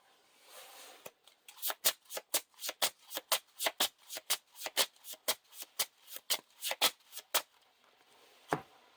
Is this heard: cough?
no